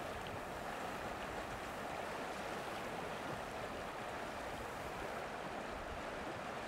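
Fast water in a rocky stream rushes in a steady, dense roar, close by and constant throughout, with no voices.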